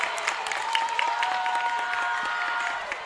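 Crowd cheering and applauding at a college women's volleyball match between BC and Sierra College, a steady, loud wash of noise filling the gym after a point ties the set.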